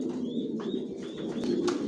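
Racer pigeons coo in a steady, low, continuous murmur that runs through the whole moment, with a few faint chirps above and no talking.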